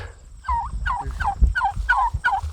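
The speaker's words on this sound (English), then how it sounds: "Don't mind the turkeys." Wild turkeys gobble repeatedly and loudly at close range, a rapid series of warbling calls over low rumbling background noise, near a bean field in New York.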